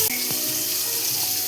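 Raw green mango pieces hit hot oil in a pan for a Bengali-style chutney, setting off a steady, close, hissing sizzle that fills the moment with no talk.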